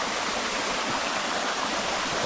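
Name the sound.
rushing stream of rain-swollen water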